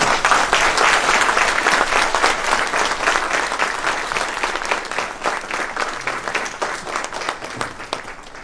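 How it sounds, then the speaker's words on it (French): A crowd applauds to welcome the President of the Republic at a community meeting, dense steady clapping from many hands, loud and close, lasting several seconds and tapering slightly toward the end. "Sous vos applaudissements"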